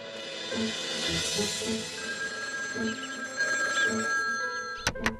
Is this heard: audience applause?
no